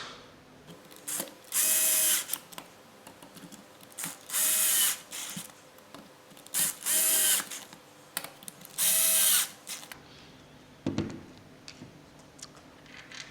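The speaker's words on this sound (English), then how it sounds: "So just grab the screws and install those." A power driver installs screws on a Wave Shaper KP0800 / DKP180Z surfboard planer in loud, close bursts of whirring separated by pauses, ending with a ratcheting click and a soft thud.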